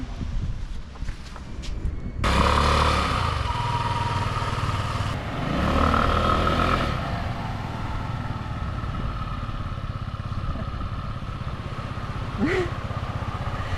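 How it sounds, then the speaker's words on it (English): Motorcycle rear wheel spinning and pushing through soft sand in a bog hole on Naxos, Greece: a loud, steady revving engine drone with wind buffeting the microphone, lasting most of the stretch. "Your back wheel's just pushing through sand."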